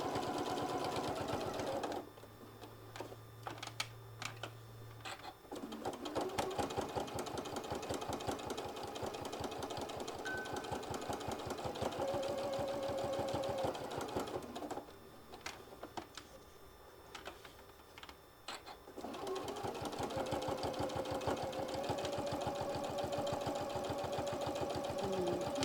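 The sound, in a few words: sewing machine stitching a folded heart case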